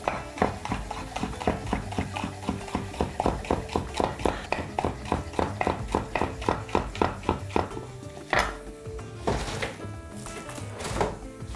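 A knife chops chili pepper into rings on a cutting board, quick steady knocks in an even rhythm at close range. After a short pause the cutting goes on in a few scattered strokes.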